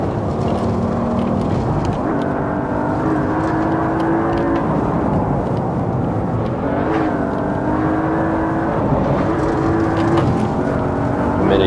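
An Audi RS6 in Assetto Corsa drones steadily under throttle, its engine note rising through gear pulls with brief dips at shifts, loud and continuous.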